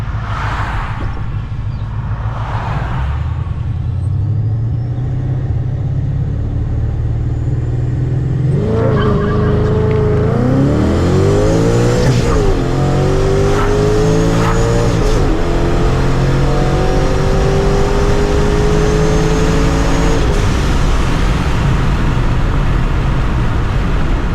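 A procharged Ford Mustang launches and pulls hard, a loud engine climbing through rising revs with a supercharger whine and quick gear shifts, starting after a couple of low revs and idling, with no talking.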